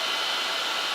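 Surface grinder wheel traversing across a magnetic chuck, a steady loud broadband hiss with no break or change.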